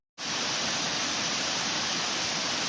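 Jackson Falls, a waterfall beside the Natchez Trace Parkway, roars as a steady broadband rush of falling water that starts abruptly and then holds constant and fairly loud, with no voices.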